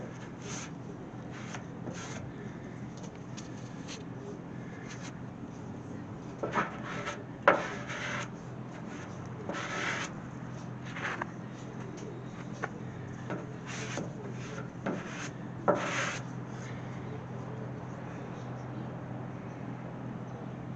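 Filler putty being spread by hand over a body panel on a 1968 AMX rear deck lid, giving soft scraping and rubbing strokes in irregular bursts over a low steady background hum, close and fairly quiet.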